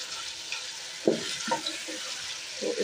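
Chicken in yogurt with coriander powder, turmeric and salt frying in a pan, a soft continuous sizzle with a few scraping stirs of a spoon, heard close and alone without speech.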